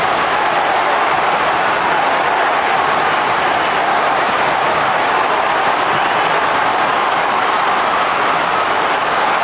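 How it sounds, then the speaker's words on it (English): A packed football stadium crowd at an AFL match, Richmond against Sydney, in 1996, a dense sustained roar of cheering that stays loud and unbroken throughout, with faint commentary mixed into the wash of noise. "And this crowd has come alive."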